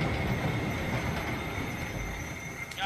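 Train in a video game rumbles steadily with a rolling rail clatter, a continuous moderately quiet wash of carriage noise for a few seconds with no talking.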